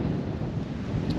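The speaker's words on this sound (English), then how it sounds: "It is windy." Steady wind buffets the microphone outdoors at Carlsbad Caverns, a continuous low rumbling roar throughout with no other sounds.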